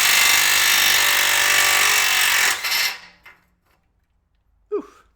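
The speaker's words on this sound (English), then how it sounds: "it's a 22 millimeter nut on top. And I'm going to use an impact just because it's faster and easier" An impact wrench hammers loose a 22 mm nut on top of a ball joint during a BMW E53 X5 tie rod replacement: a loud, steady rattling burst for about three seconds, then it winds down to quiet, followed by a brief clank.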